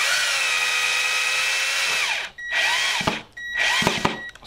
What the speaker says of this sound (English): screw that in, but not over tighten it